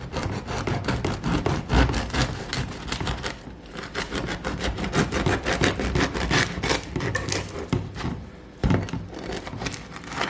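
A knife saws through a bread loaf for an Italian sub, cut lengthwise to hinge on one side, making a close, continuous rasping crunch of crust with rhythmic strokes.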